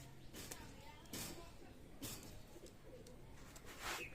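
A pair of KTM breed pigeons coos on and off, soft and close, with faint background noise between the calls.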